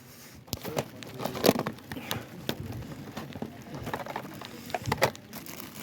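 Rain falling on an outdoor flea market, a steady patter of drops on surfaces with scattered louder taps and crinkling, fairly close, with no talk.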